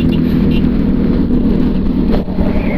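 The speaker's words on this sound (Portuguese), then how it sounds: "Trânsito caótico. Chegada a São Paulo." Chaotic city traffic on arrival in São Paulo, heard from a Suzuki B-King motorcycle: a dense, steady low rumble of engines with wind buffeting, continuous and loud throughout.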